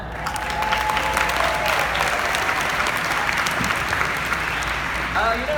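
Sustained applause from a large conference audience during the opening keynote of NSA Influence 2018, steady and dense across the whole stretch, with faint voices underneath.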